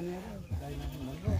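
A goat bleats briefly at close range, a short wavering cry mixed in with a person speaking to it.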